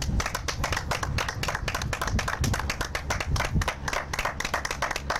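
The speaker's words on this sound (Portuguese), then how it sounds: "Vamos bater palmas aí." A group of people in a reality-show house clap their hands together in a dense, steady burst of applause that lasts throughout, close and fairly loud.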